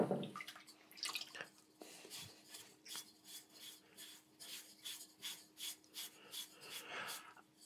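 A slightly damp sponge wipes a clay pot before glazing, making soft, steady rubbing strokes that repeat in an even rhythm at close range. The sound is quiet and has no talk over it.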